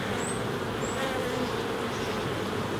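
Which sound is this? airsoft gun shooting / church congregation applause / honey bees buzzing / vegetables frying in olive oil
honey bees buzzing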